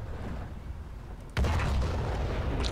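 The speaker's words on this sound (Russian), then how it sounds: "это 152-миллиметровая пушка" 152 mm cannon firing in War Thunder, a single heavy boom that hits suddenly midway and leaves a loud rumbling tail over a low background.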